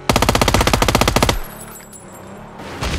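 Video game gunfire: a loud, rapid automatic burst of about twenty evenly spaced shots, then quieter game ambience with no talking.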